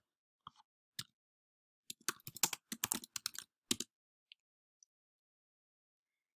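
Someone types a search on a computer keyboard while designing in Canva, with scattered keystrokes, a dense burst of quick clicks in the middle, then a few isolated taps, close and quiet with no talking.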